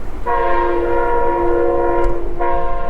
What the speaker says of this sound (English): that thing came through and honked its horn just like that